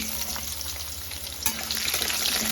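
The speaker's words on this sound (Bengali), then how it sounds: "এবার আলুগুলো ভালো করে আমি একটু ভেজে নেব।" Diced fresh garden potatoes fry in hot oil with a steady close sizzle, a stirring scrape partway through and the crackle growing slightly louder toward the end, no talking.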